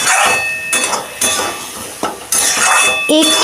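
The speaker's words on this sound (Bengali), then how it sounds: "দিয়ে এটাকে আমি ভালো করে কষিয়ে নিচ্ছি" Egg keema with spices and garam masala being stirred in a pan, heard as loud clanks and scrapes of a spoon against metal in uneven bursts, with short gaps between them.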